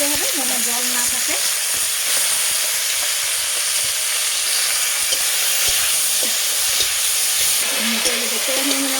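Potatoes frying in oil with dried chillies and curry leaves, a loud continuous hiss and sizzle close by, with occasional stirring and faint tonal squeaks underneath.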